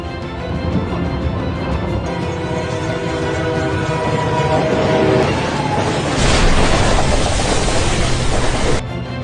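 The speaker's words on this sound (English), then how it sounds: "The video shows a controlled crash test between a car and a train, using dummies instead of real people" In a controlled crash test, a train strikes a car: a loud sustained train horn sounds over rumbling rail noise, then a sudden, harsh broadband roar of impact and grinding takes over near the end.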